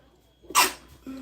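A female dog sneezes once, a single sharp burst close by, followed by a brief vocal sound.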